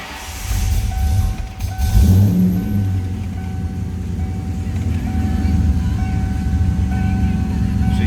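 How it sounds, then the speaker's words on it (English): A 1997 Ford Mustang Saleen S281 convertible's V8 with Borla exhaust idles with a deep, throaty rumble that swells briefly as it revs, then settles into a steady low growl. "Great sounding car, that Borla exhaust."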